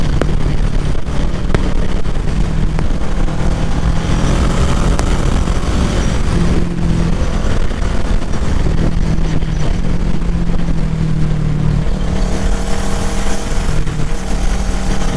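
A Kawasaki Ninja 650 motorcycle on the road, its engine droning loud and close with rising and falling pitch as it accelerates and shifts, under constant wind rush.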